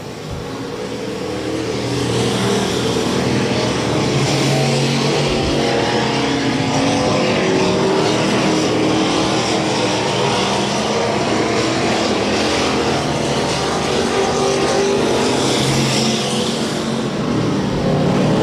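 Race cars roar around the dirt oval at Electric City Speedway during an A-Main, a dense continuous engine drone with rising and falling passes, loud and unbroken for the whole stretch.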